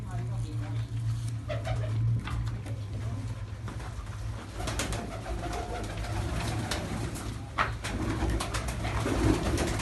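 Pigeons cooing in a village loft setting, soft repeated low coos close by with a dog whimpering faintly and people talking over them.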